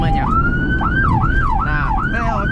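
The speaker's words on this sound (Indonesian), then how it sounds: "Seperti itu untuk arti dari suara sirine ambulans." Ambulance siren in a fast rhythm, rapid rising and falling wails repeating over a low engine rumble, loud and close.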